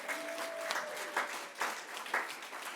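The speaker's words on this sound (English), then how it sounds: "give God a hand clap on that one." An audience applauds at a women's empowerment event, a broad wash of clapping with a few louder swells rising and falling under a faint steady tone.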